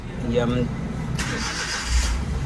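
A Suzuki Every van, just back from an engine overhaul after worn heads and valves, cranks briefly and catches into a rough idle, heard close up under people talking.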